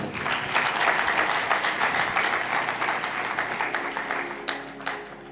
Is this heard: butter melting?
no